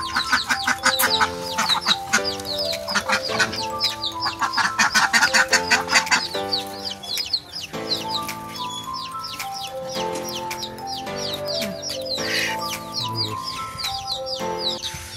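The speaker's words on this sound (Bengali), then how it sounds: "আমি হাঁস কিনেছি, হাঁস নিয়ে যাচ্ছি আজকে" Ducks bought at a market call out loudly and close by, in bursts of repeated squawking quacks that overlap, then settle into scattered, quieter calls.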